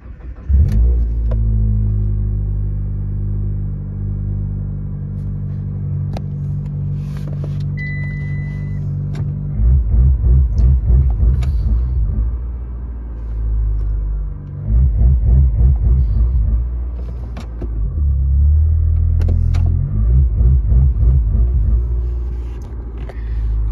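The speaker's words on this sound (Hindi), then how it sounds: "गाड़ी को स्टार्ट करूंगा," A Mitsubishi car with a transmission range sensor fault starts, then idles with a steady low rumble close by, its engine rising in several revving surges before settling back.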